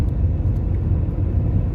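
A steady low rumble fills the cabin of a moving car, close and continuous, with faint road noise and no talk.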